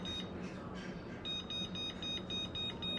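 A kitchen timer sounds a string of quick, evenly spaced high beeps while being set for baking pork ribs, fairly faint against a steady room background.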